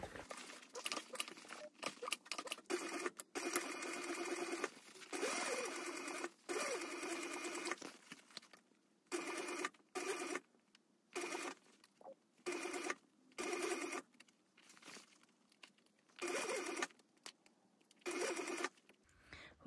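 A sewing machine stitches binding down on a handbag in repeated bursts, running longer at first and then in short stop-start runs separated by quiet pauses.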